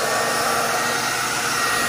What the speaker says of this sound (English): now, right, we turn on the hair dryer